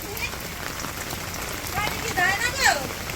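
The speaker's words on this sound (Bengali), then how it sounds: "মাত্রই কাজটা শেষ করে চলে যাওয়ার পরে নামছে বৃষ্টি" Rain falls steadily in a Bangladeshi village during a storm, a dense hiss of drops on surfaces with people's voices rising briefly over it.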